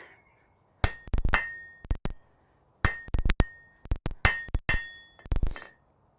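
Sharp metallic hammer strikes on hot metal in a smithy ring out in quick bursts of two to four blows, separated by short pauses, close and clear.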